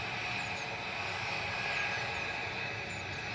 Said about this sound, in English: Here's the second air tanker.